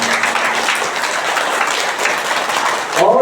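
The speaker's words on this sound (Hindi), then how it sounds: "सब अपने लिए बहुत जोर से ताली बजाए" A group at a yoga training session applauds themselves, a dense, loud, steady burst of clapping from many hands that lasts a few seconds before fading into voices.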